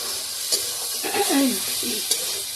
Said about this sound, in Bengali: তেল মশলা দিয়ে আলুগুলো ভালো করে ভেজে